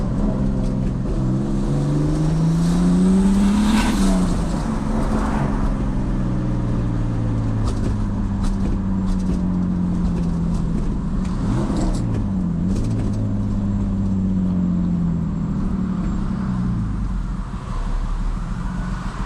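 A turbocharged BMW E46 with a blown engine runs close by, revving up and down in several sweeping surges over a continuous rumbling idle, loud and sustained.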